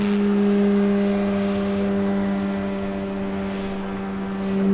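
An electric Ki-43 Oscar model airplane drones steadily at full throttle, nose pointed skyward, a strong sustained whine that shifts slightly in pitch.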